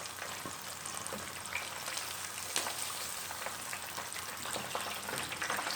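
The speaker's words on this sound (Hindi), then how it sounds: "इसी तरह बाकी जितने भी हैं वो सारे के सारे हम ऐसे ही सेम फ्राई करते हैं" Chicken wings fry in hot oil with a dense, steady crackling sizzle like rain on a surface, close and continuous throughout.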